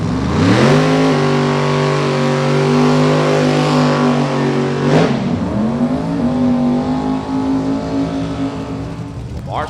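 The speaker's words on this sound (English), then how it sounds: "Terrifically supercharged Hemi-powered 71 Chevy Camaro. Flacco, turbocharged S10 pick-em-up truck" Drag racing at Space City Showdown: a supercharged Hemi-powered 1971 Chevy Camaro and a turbocharged S10 pickup roar at high revs, loud sustained engine tones rising and shifting as they run.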